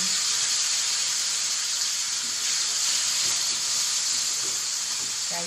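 Vegetables going into a hot pan for rice noodle soup, giving a steady, loud hiss and sizzle of steam and frying that continues evenly throughout.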